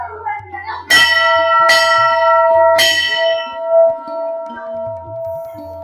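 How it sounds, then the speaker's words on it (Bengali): Three loud metallic strikes of a bell at a Kali temple in Malda, each ringing out with a long shimmering decay that overlaps the next, close by and with no talk. "ঘন্টাটা বাজায়।"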